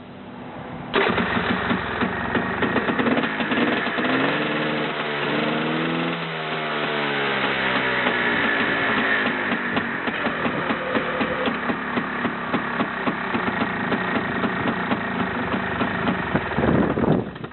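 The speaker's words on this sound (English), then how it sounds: "I'm going to rev it a couple times, let it idle all the way down." A Honda Pilot off-road vehicle engine starts, revs up and down a couple of times with rising and falling pitch, then settles into a steady close idle that runs on before cutting off.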